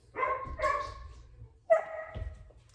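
A dog barks indoors in a home kitchen during cooking: about four sharp, fairly close barks in two short bursts with brief gaps between them, and no talking.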